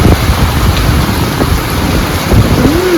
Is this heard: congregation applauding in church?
no